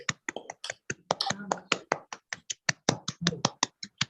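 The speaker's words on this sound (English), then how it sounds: "let's do an easy round of applause for the presentation and the quiz" Applause for a presentation and quiz at a young scientists' meet, a small group clapping in quick, sharp, uneven claps that run steadily throughout.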